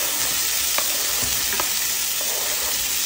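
Corn and chicken strips being turned in a frying pan over medium heat, a dense, loud sizzle with a few faint spoon scrapes.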